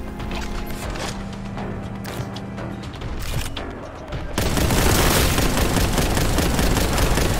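Continuous heavy gunfire in Warhammer 40K Boltgun, a dense rapid barrage that starts abruptly partway through after scattered shots and mechanical clatter, loud and close, roaring without pause to the end.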